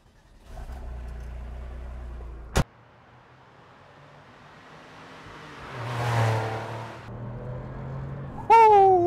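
Modified Porsche 993 Turbo 911 on the move, its engine droning steadily up close before a lull, then swelling again as it accelerates, with a sharp click and a rising whine near the end.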